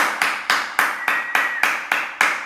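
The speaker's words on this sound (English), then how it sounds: "And give them a clap." A primary school assembly claps in short, rhythmic bursts, about eight evenly spaced rounds of crisp hand claps from a group of children, close and clear with no talk.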